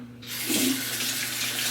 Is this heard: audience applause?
no